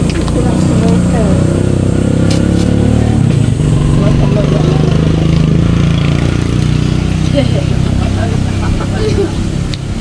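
A motorcycle engine runs in a continuous, fairly loud low rumble with a brief change in tone partway through, and voices talk over it.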